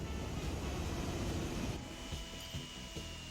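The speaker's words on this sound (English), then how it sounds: "There's actually a train right there going through." A train passing through in the city-building game Transport Fever 2, a low rumbling roll that is heavier at first, then eases into a lighter clatter with a few soft knocks.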